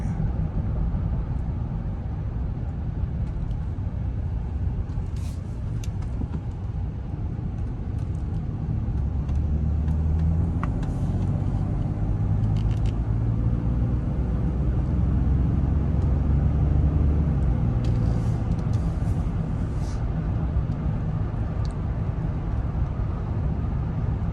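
Steady road and engine noise from inside a 2016 Lincoln Navigator Select 4X4 cruising on the freeway, a continuous low rumble with tire hum and occasional passing-traffic whooshes, no talking.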